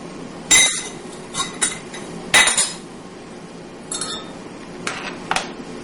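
A spoon clinks sharply against a glass or bowl while sugar is stirred into fairly warm water for pizza dough, a handful of bright, irregular taps spaced over several seconds with quiet in between and no talking.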